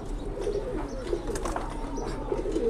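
Young pigeons coo softly in a steady low murmur while drinking water, close by with faint background noise and no talking.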